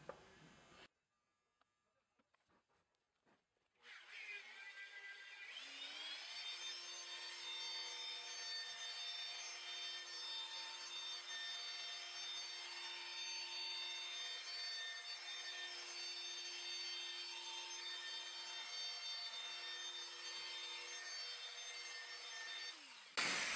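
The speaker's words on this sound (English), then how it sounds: "let's polish it out." An electric polisher works V38 polish over a car headlight, starting after a few faint knocks and then running as a steady, close whirring hum with a high whine throughout.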